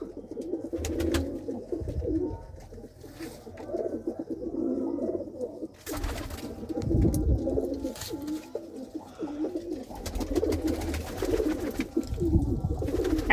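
Result-winning racing pigeons coo repeatedly in a loft, soft throaty rolling calls overlapping in steady bursts at close range, with occasional rustling and wing movement.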